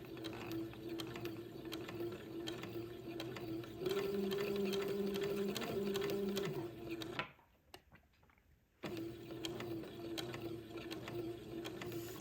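A sewing machine stitching pleats slowly into a baby boy's day gown, steady close mechanical whirring and rhythmic needle clatter that pauses for about a second and a half before resuming.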